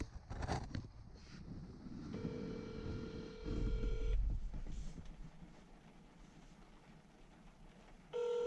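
A phone call dialed from inside a parked truck, with steady single dialing tones in two separate bursts over low wind and cab rumble, no talking.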